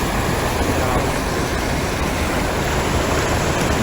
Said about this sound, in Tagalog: Oh, lakas ng tubig.